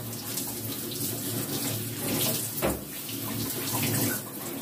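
Water from a tap runs steadily while a dog is bathed, a close, continuous splashing rush with slight shifts as the stream hits fur and tub.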